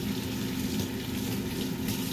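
Tap water runs steadily over a spatula being washed in a kitchen sink, a close, continuous splashing rush with no talk.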